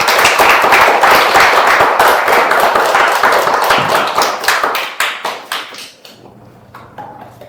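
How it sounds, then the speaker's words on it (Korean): A church congregation applauds during a Sunday worship service, a full, loud burst of clapping that thins into scattered individual claps and dies out, leaving a low hum in the room. "우리 박수 한번 크게 쳐주시면 좋을 것 같습니다"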